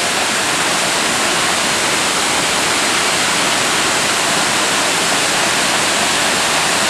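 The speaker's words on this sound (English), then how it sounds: "This is particularly nice because it has that double flow at the top, then cascades into that hole" Drift Creek Falls in Oregon, a waterfall with a double flow at the top, pours over rocks into a pool, giving a steady, loud, close roar of rushing water throughout with no voices.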